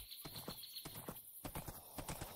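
Horse hooves clip-clop in the Minecraft video game, a quick, steady run of light hoofbeats that repeats throughout, fairly close and alone over a faint background.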